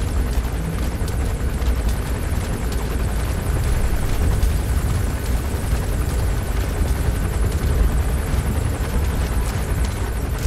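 A military helicopter circles overhead in Metal Gear Solid V: The Phantom Pain, its rotor thumping and engine roar a loud, steady, close drone that fills the whole stretch without a break.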